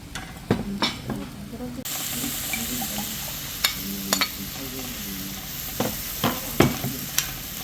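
Webfoot octopus and vegetables sizzle on a tabletop pan at a restaurant, a steady close hiss broken by scattered clinks and scrapes of stirring utensils.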